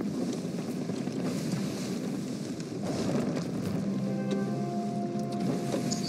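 A sailing ship in the game Sea of Thieves moves under steady wind, with continuous rushing wind, water wash against the hull and faint creaking tones in the background.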